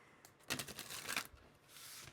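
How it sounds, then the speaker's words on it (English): Tarot cards being shuffled by hand during a reading: two quick riffling bursts close by, then a softer lingering shuffle, with no talking. "I just like to shuffle them a little bit during the reading itself."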